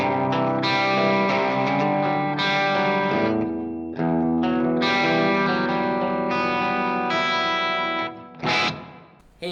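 A Yamaha SG800 electric guitar on its bridge humbucker, through a Twin Reverb amp preset, plays ringing clean chords and single notes, sustained and bright with a touch of room reverb, alone without any voices.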